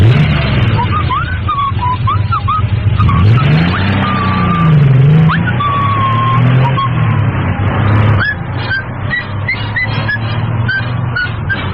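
A car engine starts and pulls away, its steady close roar holding for the whole stretch while higher thin tones rise and fall above the rumble.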